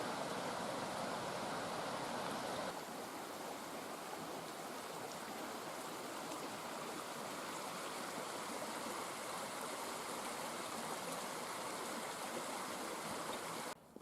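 Broad, steady rush of river water flowing over the stone ford at Tarr Steps on Exmoor, loud and continuous throughout with no voices, ending abruptly.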